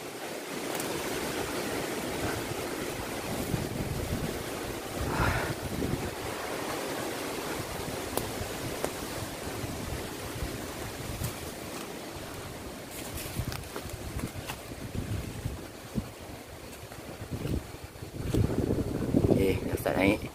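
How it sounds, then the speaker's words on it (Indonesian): Strong wind blows across a hillside on Bukit Repin, a steady rushing roar with low rumbling buffets on the microphone, briefly louder near the end. "Angin kuat."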